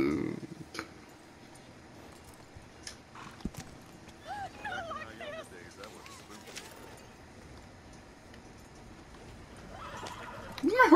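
A horse whinnying in the video game Red Dead Redemption 2, a mid-level wavering neigh heard over quiet ambience, with a few hoof clops and soft clicks and someone talking around it.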